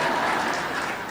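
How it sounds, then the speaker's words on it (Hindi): An audience at a spiritual talk breaks into a short, steady wash of applause. The crowd claps at a moderate level, dense and continuous, with no single claps standing out. "बहुएं ताली बजा दो जरा।"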